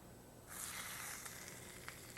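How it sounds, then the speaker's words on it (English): Seasoned fish fillet laid seasoned side down into a hot pan, setting off a sudden loud sizzle that holds steady with faint crackles and pops, no talking. "we're going to take the seasoned side and we're going to put it down in the pan"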